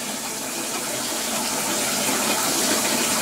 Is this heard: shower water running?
yes